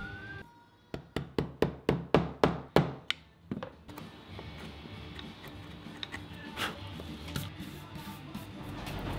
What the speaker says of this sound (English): A fresh chisel to remove the rounded corners, and the dados were done.